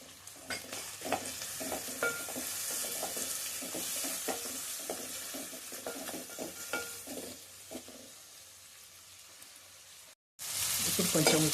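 Ginger garlic paste sizzles with onions in a pan as a spoon stirs with steady scraping and clinking, a fairly quiet close frying hiss that dies down near the end before a louder burst of hiss.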